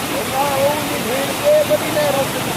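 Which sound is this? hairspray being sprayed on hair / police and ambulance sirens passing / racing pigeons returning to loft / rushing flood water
rushing flood water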